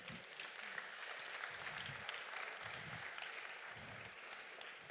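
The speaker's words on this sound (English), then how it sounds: "Yes, let's give an applause." Audience applause fills the room in a steady, continuous wash of clapping at moderate loudness, with a faint murmur of the crowd underneath and no pause throughout.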